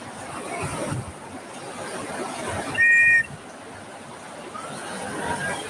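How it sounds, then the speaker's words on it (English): Several whistles blown outdoors at a rafting throw bag contest, one sharp, loud blast standing out briefly over a steady background hiss, with others fainter and farther off. "Multiple whistles going on."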